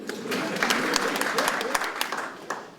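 Audience applause in a hall during a debate event, a steady wash of clapping with scattered sharper claps, fairly close and continuous throughout.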